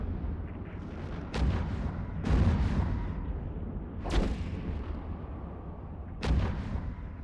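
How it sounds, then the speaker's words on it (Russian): Four heavy, booming shotgun-like blasts from ship guns in EVE Echoes, spaced irregularly over a steady rumbling background, loud and close. "Звук такой, как будто кто-то из дробовика хуярит."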